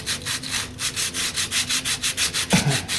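Hand-sanding a brake drum from a 1960 Ford F100 with a roll of 220-grit sandpaper held in the fingers, a steady rhythmic back-and-forth scrubbing of about six strokes per second, close and alone, ending with a brief knock.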